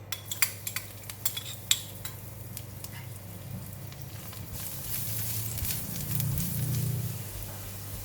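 Garlic sizzling in hot oil in a pan, preceded by sharp clinks of a utensil against the pan, then a steady, broadening hiss and crackle of frying close by with no talk.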